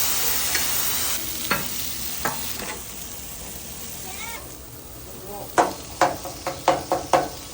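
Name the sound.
steak sizzling on a Blackstone griddle with soy sauce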